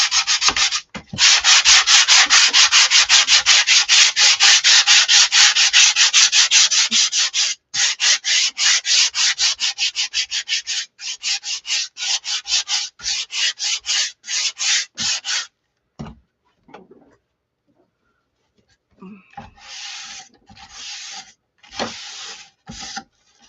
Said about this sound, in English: I'm going to get my sander and my tack cloth.